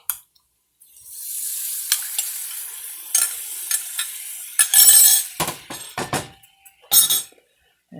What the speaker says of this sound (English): And we'll whisk it.